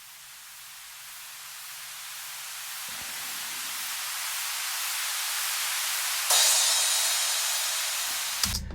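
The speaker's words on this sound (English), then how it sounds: "I just picked the white noise samples that already had reverb built into them" A white noise sample with built-in reverb swells as a broad, steady hiss that grows gradually louder, then brightens abruptly near the end before cutting off.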